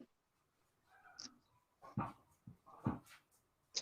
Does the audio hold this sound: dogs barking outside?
yes